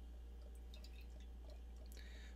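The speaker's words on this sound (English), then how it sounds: "let's pour this out" Imperial stout being poured out, heard as a faint, quiet trickle with scattered soft drips and splashes over a low steady hum, and no talking.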